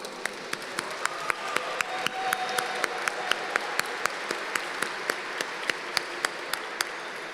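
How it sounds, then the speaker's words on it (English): Applause at a women in aviation and aerospace day event, fairly quiet and heard from some distance, with scattered individual sharp claps standing out over a soft, steady wash of clapping. "would you please stand and let's give them a round of applause"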